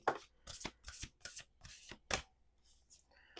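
A deck of cards is shuffled up close, with several quick riffling bursts in an uneven rhythm and short pauses between them, followed by softer handling at the end.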